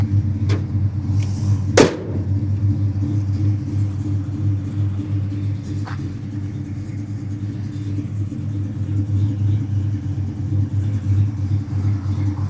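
A single sharp, loud metallic thud of a 1967 Plymouth Satellite's hood closing over the steady low rumble of its idling 400 V8 engine, followed by a few faint clicks.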